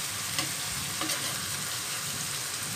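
Egg frying and being mixed in a hot pan for fried rice, giving a loud continuous sizzle with a few soft stirring scrapes, close and unbroken by talk.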